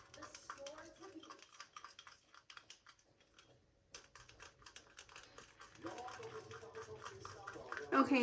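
A spoon clinks and scrapes against a bowl as jello mix is stirred into hot melted butter for Valentine's baking, quick irregular tapping strokes up close, pausing briefly midway and then resuming more steadily.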